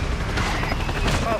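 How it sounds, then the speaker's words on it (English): Explosions from a friendly mortar strike in the video game Call of Duty: Modern Warfare II, heard as rumbling, muffled booms. Low thuds roll continuously beneath faint game sounds. "Friendly mortar strike on the way."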